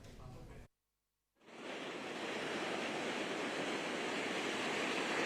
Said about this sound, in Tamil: புதுச்சேரியில் கடல் சீற்றத்துடன் காணப்படுகிறது